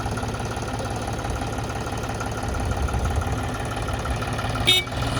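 A John Deere tractor engine runs steadily with a low, rumbling idle, close by and constant, with a brief clank near the end.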